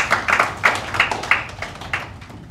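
Applause at a ceremony marking the campaign against human trafficking: a small audience clapping in loose, uneven bursts, close and fairly loud, fading toward the end.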